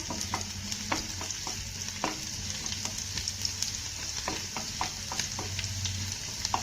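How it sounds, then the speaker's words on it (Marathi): Chopped garlic fries in oil in a pan with a steady, close crackling sizzle, while a spatula stirs and scrapes in repeated light taps throughout. "हा लसूण आपल्याला हलका सोनेरी रंगावरती परतून घ्यायचा आहे"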